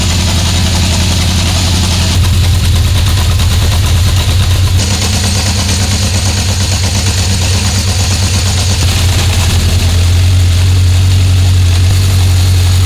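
A 1976 Honda CB750F1 four-cylinder motorbike idles steadily and loudly up close while its carburettors are balanced, a low throbbing drone that shifts slightly in tone as adjustments are made.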